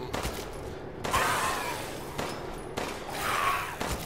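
Gunfire in the survival horror game Resident Evil Village, with several sharp shots and bursts spread across a few seconds amid game ambience and loud reverberant tails.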